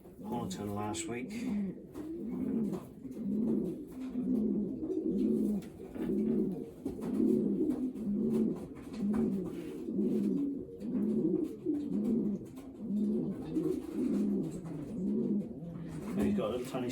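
Racing pigeons being basketed for races coo steadily, a repeated low rhythmic cooing close by that runs throughout.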